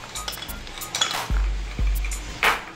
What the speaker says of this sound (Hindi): और इसके अंदर आइस क्यूब्स डालेंगे।